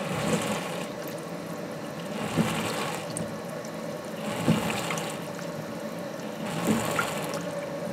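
Water flows and gurgles through a boiler being flushed of scale and minerals, a continuous trickling stream with periodic surges and bubbling bursts roughly every two seconds, close and alone.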